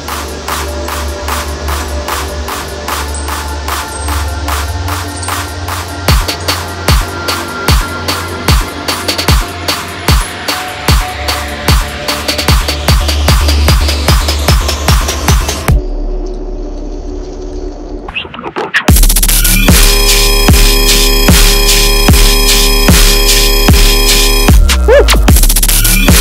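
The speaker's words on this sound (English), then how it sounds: "This is going to be a sustain bass and also the chug bass that goes underneath it." A heavy dubstep riddim track built in the Serum synth pounds with a sustained distorted bass and rhythmic chugging bass under punchy drums, loud and dense, with a brief breakdown before a full-force drop.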